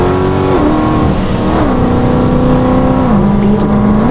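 A car engine at full throttle pulls hard and loud, revving up steadily with a couple of brief dips as it shifts, then climbing again.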